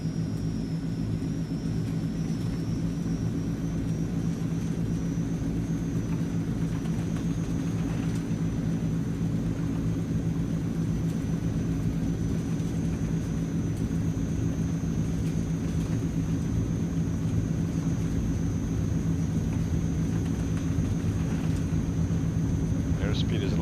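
Transall C160 turboprop engines roar steadily through a takeoff roll in Microsoft Flight Simulator, a loud continuous rumbling drone with a faint high whine, while a person talks over it.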